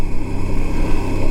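Royal Enfield motorcycle meandering in fourth gear along a country road, its loud, steady engine thrum close by and continuous, with a faint pulsing beat in the exhaust note.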